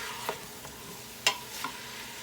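A corner spoon stirs vegetable beef soup inside a Quick Cooker, making a few soft scraping strokes over a low, steady simmering hiss.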